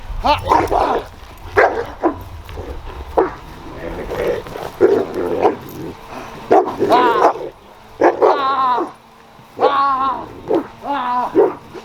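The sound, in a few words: police K9 dog barking during bite training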